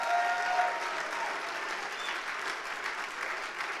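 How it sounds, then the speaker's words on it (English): Congregation in a church ministry service clapping their hands, a steady wash of applause holding at an even level throughout, moderately loud and fairly close, with no talking over it. "Give her a hand clap."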